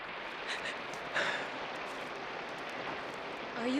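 Rain falling outdoors on a surface, a faint, continuous hiss with scattered patter, steady throughout with an occasional soft breath or sniff and no speech.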